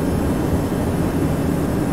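Boeing 737 engines drone in a flight simulator game, a steady broadband roar that holds level throughout with no talking.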